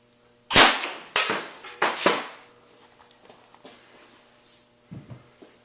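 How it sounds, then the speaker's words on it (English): A homemade air blaster cannon fires into a yellow pages phone book, giving a sharp loud blast followed by several quick pops and clatters, then fainter knocks and a small burst near the end. "I'm going to shoot the yellow pages and see what happens."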